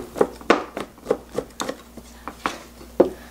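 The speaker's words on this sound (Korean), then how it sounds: "이런 것도 이렇게 썰어 넣으면 맛있거든요" A knife chops leftover tteokgalbi (grilled short rib patties) on a cutting board for kimchi pancake, a steady series of about a dozen crisp, separate thunks at an unhurried, slightly uneven pace.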